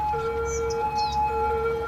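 Ambulance siren from the city-building game Cities Skylines, a steady electronic siren tone with wavering high pitch, heard alone over a low game-ambience hum for about two seconds.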